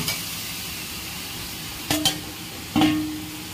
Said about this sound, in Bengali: এবারে দেখো আলুগুলোও দিয়ে দেবো।